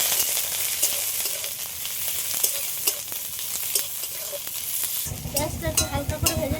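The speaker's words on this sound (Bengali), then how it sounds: "এই পেঁয়াজগুলো একটু হালকা করে ভেজে নেব।" Onions and green chillies fry in hot oil, a close, steady sizzle broken by stirring scrapes, with a louder clattering stir near the end; no voices.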